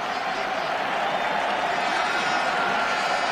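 A stadium crowd applauds the substituted defender Basile Boli during France versus Norway, a 1988 World Cup qualifier. A steady, dense wash of clapping and crowd roar carries on throughout, with a commentator talking over it.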